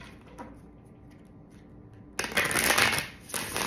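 A deck of cards being shuffled close by: quiet handling at first, then a loud, dense riffling burst lasting over a second.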